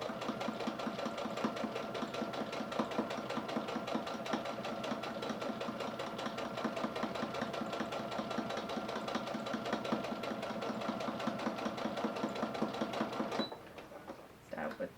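Domestic sewing machine runs steadily, stitching a fabric face mask with a rapid even whir for about thirteen seconds, then stops abruptly, leaving a quieter pause and a brief final burst.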